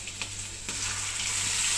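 Chopped goat blood pieces fry in a hot pan with a steady, close sizzle and a faint mains hum underneath, with a couple of brief crackling bursts near the start.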